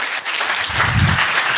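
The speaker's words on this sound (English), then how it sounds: "Emily, big round of applause" An audience at a London business conference claps for a speaker named Emily, a dense burst of applause from many hands, loud and close, with a brief low thump partway through.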